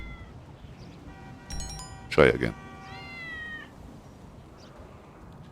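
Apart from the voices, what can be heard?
cat meowing in Grand Theft Auto video game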